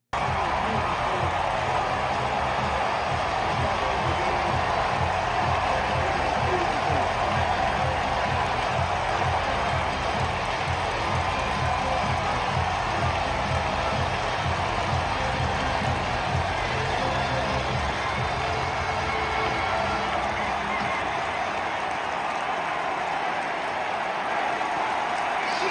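A packed stadium crowd at a World Baseball Classic game roars and applauds after a home run, a dense, loud, continuous wall of cheering that holds steady before easing slightly near the end.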